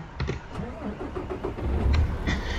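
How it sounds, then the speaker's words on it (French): A truck engine cranks and catches in American Truck Simulator, a short starter whir followed by a low engine rumble that swells louder toward the end, heard close and with no talk over it. "On démarre le moteur."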